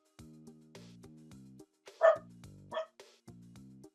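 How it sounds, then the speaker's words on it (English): A dog barks repeatedly at a home delivery, close by, with short yips and harmonic barks coming in uneven bursts plus a couple of sharper, louder cries, and no one talking. "My one dog will bark for a bit because that's what she does."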